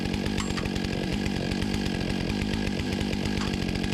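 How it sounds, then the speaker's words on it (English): A chainsaw on a milling rig runs steadily at high revs throughout, a loud, rattling buzz with a continuous throbbing rhythm as it cuts timber into posts and slabs. "once I put the chainsaw on there, it really rattles and it shakes those bolts"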